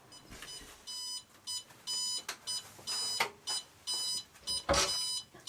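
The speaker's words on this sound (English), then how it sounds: "That's the alarm you can hear bleeping." A heat-treatment oven for knife making beeps its alarm after soaking at 700 degrees, a run of short, evenly spaced bleeps, fairly faint, with a few sharp clatters in between.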